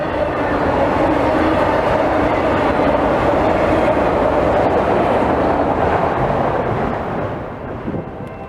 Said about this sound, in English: NS-18N is a loaded autorack train from Conway,